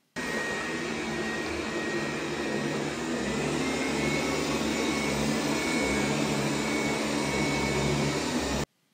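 A Dreame D10S Plus robot vacuum runs on its turbo setting, a constant loud whooshing roar with a droning motor hum, alone and unbroken for the whole stretch.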